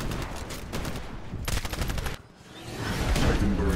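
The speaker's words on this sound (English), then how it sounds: "No, stop shooting me." Gunfire in the video game Titanfall: dense, rapid bursts of automatic weapon fire crackle loudly and close, with a brief pause before a heavier rumbling barrage swells back in.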